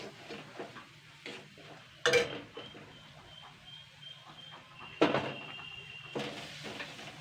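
Radish greens are stirred in a pan with garam masala and Maggi masala, the spoon scraping and clinking against the metal in short bursts, with a couple of louder knocks and a faint background sizzle.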